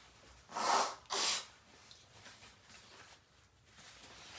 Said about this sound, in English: The sniffles were kind of getting to me.